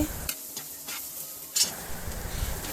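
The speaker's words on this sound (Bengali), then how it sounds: "আমি পেঁয়াজটা ভেজে নেই করলার সাথে একসাথে দিয়েছি।" Sliced onion and bitter gourd fry together in a pan, a brief burst of sizzling with a few quick stirring scrapes close by.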